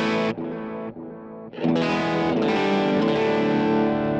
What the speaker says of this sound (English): I created this one to be like a warm tape delay